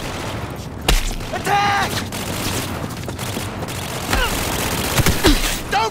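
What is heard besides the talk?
gunfire in Cyberpunk 2077 video game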